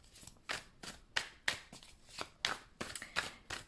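Tarot cards are handled and drawn from a deck in a series of crisp, close slaps and flicks, about a dozen in an uneven rhythm, with no talking.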